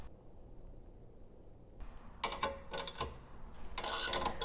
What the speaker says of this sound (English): 9/16 ratchet wrench